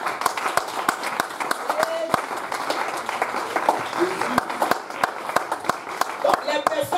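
A church congregation applauds and claps steadily in praise, dense rhythmic clapping filling the room throughout, with sharp individual claps standing out and voices mixed in beneath.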